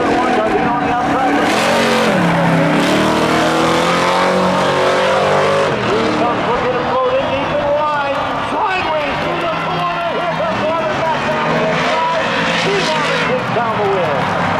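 Race cars launch side by side in a spectator drag event at Seekonk Speedway, engines roaring loud and continuous with rising and falling revs throughout, while an announcer talks over the noise.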